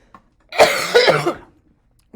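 A single harsh cough burst, close and fairly loud, followed by a short throat-clearing rasp, with near silence on either side.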